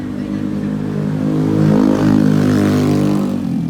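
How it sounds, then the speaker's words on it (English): Traffic on a busy Manila city street, with a vehicle engine droning close by and swelling as it revs past, then easing off toward the end. "you notice the noise, the traffic"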